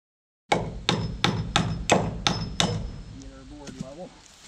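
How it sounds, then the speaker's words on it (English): Seven sharp, evenly spaced hammer blows drive nails into timber boards while a woodshed is being modified, ringing close and loud before fading into faint background sounds. "these ones for this side we're just going to nail because they're going to be pushing into the timber"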